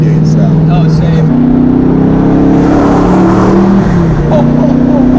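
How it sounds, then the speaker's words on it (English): A twin-turbo 1969 Camaro under boost, heard from inside the car: a loud, steady engine drone with rising and shifting tones as it pulls, plus wastegate whooshes, with people talking over it. "I love that wastegate sound."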